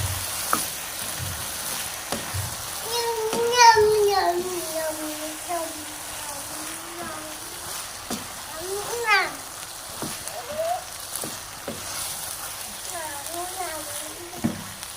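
Half a kilo of macaroni is stirred and cooked with spices in a pan, giving a continuous sizzle with intermittent stirring scrapes, while voices murmur in the background.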